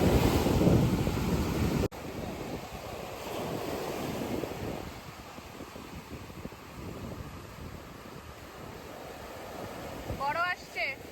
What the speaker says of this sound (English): just the sound of waves and the breeze of the water.